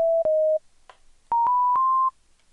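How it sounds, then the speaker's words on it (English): Two sustained electronic synth chords for an electro house track made in Ableton Live sound one after the other, each a clean steady tone with sharp clicky onsets, loud and alone, separated by a short quiet gap. "this is what these two chords sound like together when they're played"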